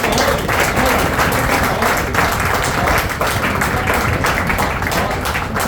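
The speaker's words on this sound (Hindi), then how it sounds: "बहुत जोरदार तालियां।" Loud, sustained applause from a theatre audience after a comedy stage play, honouring the play's director; dense clapping fills the whole stretch without letup.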